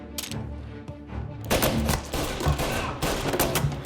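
Gunfire in Mafia Definitive Edition: a few scattered shots, then a loud sustained burst of rapid, overlapping fire with sharp cracks, close and dominant, with no talk.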